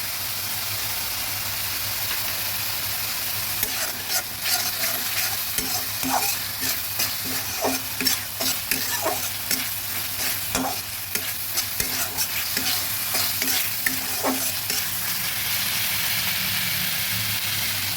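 Ginger paste and spices frying in hot oil in a pan for a koi fish dish, a continuous close sizzle broken by repeated scraping stirs of a spatula in a loose rhythm, no talking.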